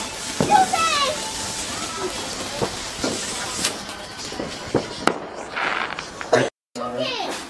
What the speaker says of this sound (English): Was that a mad rocket?